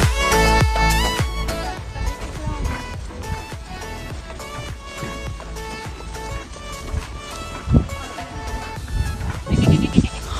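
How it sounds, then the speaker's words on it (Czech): Sheep bleat repeatedly during a horseback ride, their calls mixing with loud music and clatter throughout, with a few sharper thumps and a burst of rustling near the end. "Ovečky! Ovečky! Ovečky!"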